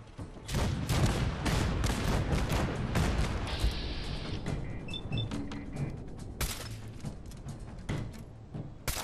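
Cannons firing in Fallout 4, a dense run of booming blasts with creaking, mechanical clatter and rumble, loud and sustained throughout with repeated sharp impacts.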